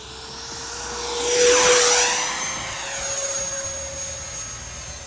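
A Freewing J-10 Vigorous Dragon RC jet with a 90mm electric ducted fan sweeps low past, its steady high whine swelling loud as it nears then falling in pitch as it passes and fades off.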